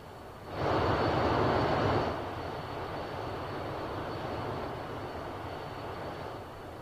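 A steady airplane engine drones through the cabin during a flight from Las Vegas to Salt Lake City; it swells louder for about a second and a half, then settles back to an even, broadband roar.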